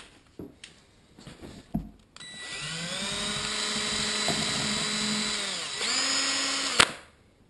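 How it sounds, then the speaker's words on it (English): A power drill spins up and whirs steadily for several seconds, stirring PlastiDip paint with a churning hum, then winds down; a few knocks and clatters before it starts. "Get the stirrer and the drill."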